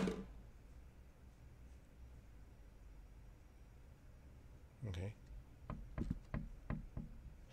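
Knocking in the horror video game Late Night Mop: a quick series of faint, sharp knocks near the end, preceded by a single dull thump, over a quiet hiss of room noise.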